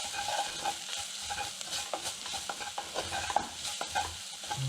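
Spices sizzle and crackle in hot oil for a Shorwa soup, a steady close frying hiss broken by scrapes and clicks from stirring, with no one speaking.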